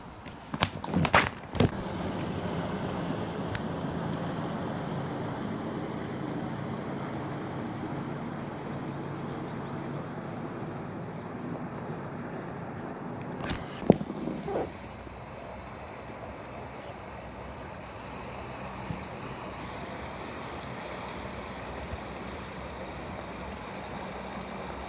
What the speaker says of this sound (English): All the boats are heading out for the dawn fishing.